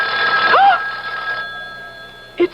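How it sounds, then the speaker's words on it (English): A telephone bell rings in a radio mystery drama set during a blizzard. A loud, continuous ring lasts over a second and then stops. A brief thud follows near the end. "It's the phone."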